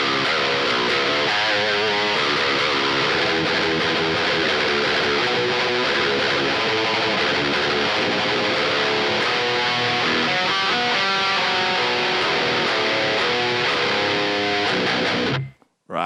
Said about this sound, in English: I play a lot of power chords today.